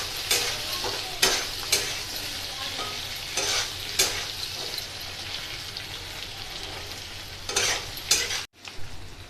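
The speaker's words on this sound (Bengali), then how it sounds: "এবার আমি এতে অ্যাড করছি বেগুনগুলো এর সঙ্গে ভেজে নেব একটু" Eggplant pieces sizzle as they fry with already browned potatoes in a pan, for a Bengali hilsa curry. A steady, fairly loud crackle runs throughout, broken by scraping stirs every second or so, then a brief cut near the end.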